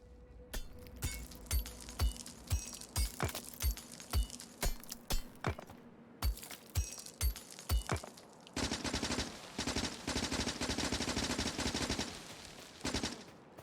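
Rapid bursts of automatic gunfire from the video game Factorio, first as evenly spaced sharp shots with clinking, then a dense continuous stream of firing, loud and without talk.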